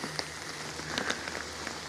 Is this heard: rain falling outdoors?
yes